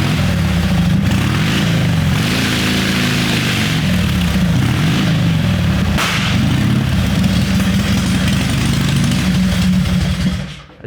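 A 1929 Harley-Davidson JTH motorcycle engine revs loud and close, its throaty roar rising and falling in repeated surges before cutting off abruptly at the end.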